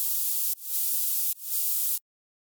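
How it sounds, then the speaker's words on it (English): Harsh, bright white noise from an Ableton Operator noise generator plays alone in three steady bursts separated by brief dips, loud and hissing, then cuts off abruptly into silence. "Next, we move on to the white noise."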